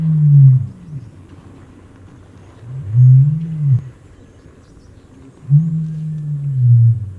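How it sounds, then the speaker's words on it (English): An ostrich gives three deep, low booming calls, each a drawn-out rumbling hoot about a second long, separated by pauses and heard alone without talk. "Ostrich."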